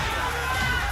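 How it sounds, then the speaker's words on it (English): A large crowd chanting USA at an esports fighting game tournament, a dense, loud, continuous roar of many voices that fills the whole moment. "Oh my God, the crowd of the USA chant started by Spiro Jin."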